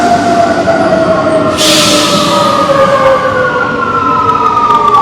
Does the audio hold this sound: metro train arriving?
yes